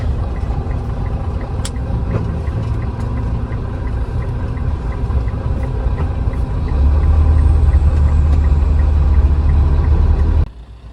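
Idling vehicles in a traffic jam near Terminal Alang Lebar make a loud, steady engine rumble throughout, swelling into a deeper, heavier drone partway through before cutting off.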